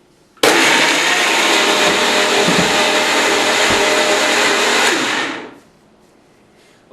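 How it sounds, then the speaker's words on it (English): A countertop blender whirs loudly and steadily for about five seconds, blending a chia seed endurance smoothie, then spins down to quiet. "let's give it a blend"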